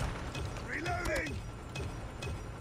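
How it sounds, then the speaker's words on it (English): A gun being reloaded in the mobile shooter COD Mobile, a short mechanical clatter of clicks and ratcheting parts over steady game background noise, with a brief voice in the mix. "Reloading."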